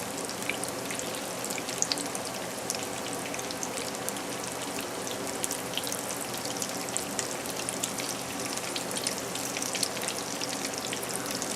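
Breaded keto zucchini sticks fry in hot oil with a steady, dense crackling sizzle and scattered sharp pops, close and even throughout without any voices.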